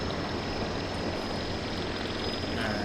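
A noisy drone in the video game Voices of The Void gives off a loud, constant whirring buzz like a small rotor engine, steady and close throughout, with no talking.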